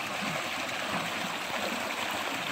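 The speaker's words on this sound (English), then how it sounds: "the sound of the river running through the rocks" A river rushes over rocks in a steady, close wash of water noise with soft gurgling texture, continuous and unbroken, with no voices.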